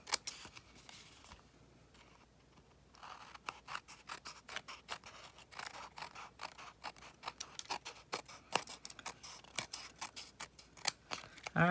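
Paper pieces for a sunburst card being cut with scissors, a steady series of close, crisp snips and slices after a short quiet pause, no voices.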